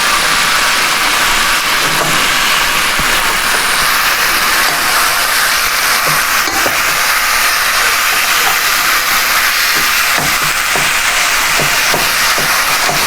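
Veal sears in a hot pan, a loud, steady broadband hiss with small crackles scattered through it. The sizzle is close and continuous from start to finish, with no speech.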